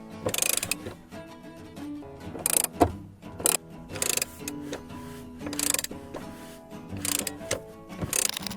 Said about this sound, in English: I needed a short extension on my wrench to get at these